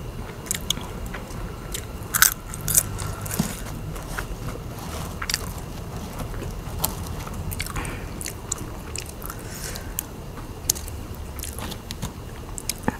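Isan sausages and fresh chili are bitten and chewed close to the mic, with repeated crunchy bites, sharp crackles and soft wet squishes in an irregular rhythm, with no talking.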